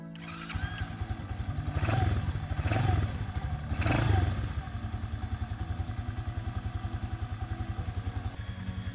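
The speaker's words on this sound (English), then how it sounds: "Let's start the engine." A 2x2 ATV motorbike, fitted with both electric and kick start, cranks with several heavy thumping bursts and then settles into a quiet, steady, rapid idle chug, close by.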